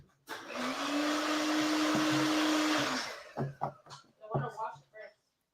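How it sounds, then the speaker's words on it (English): A sister's kitchen blender roars in a loud, steady whir for nearly three seconds, then cuts off as people talk and chuckle nearby. "My sister's going to use her blender while I get the cards out."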